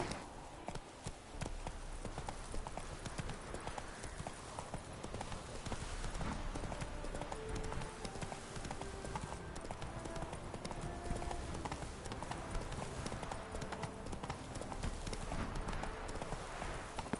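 Roach the horse's hooves clip-clopping in The Witcher 3 video game, a continuous rhythmic trot of hoofbeats over ground, mixed under background game music and ambience.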